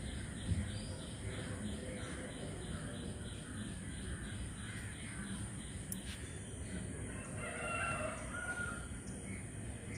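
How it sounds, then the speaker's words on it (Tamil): Crows caw repeatedly among other birds outdoors at a Poovar resort in Kerala, a faint, distant chorus of calls over a steady background hush, with no voices nearby. "சேவலோட சத்தம், பறவைகளோட சத்தம்லாம் அழகாக கேட்குது."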